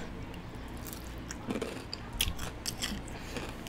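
Someone bites and chews Wingstop lemon garlic chicken wings close to the mic, with wet crunches and smacks scattered across a quiet background.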